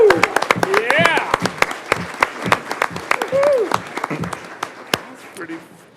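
An audience at a town council meeting applauds local state champion players, with scattered sharp claps mixed with whoops and cheering voices, rising and then thinning out as talk resumes.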